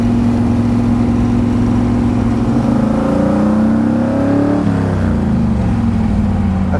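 A Shelby GT350 engine revs in a loud, continuous drone, rising in pitch and then falling back, heard close up from the car.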